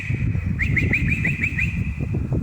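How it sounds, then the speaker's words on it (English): A bird trapped inside a house gives a quick series of about seven bright, repeated chirps, close and clear over a low, busy indoor background. "A bird flies into the house."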